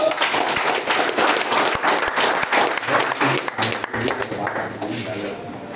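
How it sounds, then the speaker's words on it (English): A group of people claps together in a dense, steady burst of applause, loud and close, sustained for several seconds, with some voices mixed in. "Give Ready, sir. big clap, all of you"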